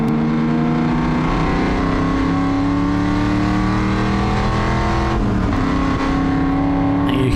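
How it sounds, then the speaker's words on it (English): Endurance race car at Harris Hill during a ChampCar enduro, engine droning loud and close as revs climb and drop through quick, clean upshifts with no clutch slip, running continuously. "You hear those gear changes,"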